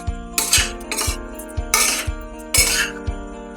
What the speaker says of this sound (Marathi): आता याला आपण व्यवस्थित पद्धतीने असं हे वाटणामध्ये मिक्स करून घेतोय